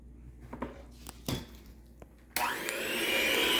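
An electric mixer starts up and whirs steadily through butter pecan cake batter after a few soft clicks and kitchen clatter, loud and close for the final second.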